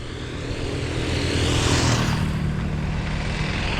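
An approaching diesel-engined vehicle in Diani, a broad droning engine roar that grows louder as it nears, steady and fairly close, with no talk.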